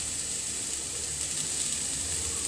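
Okra frying in oil in a pan gives a continuous, even sizzling hiss at moderate volume, with no other sounds over it.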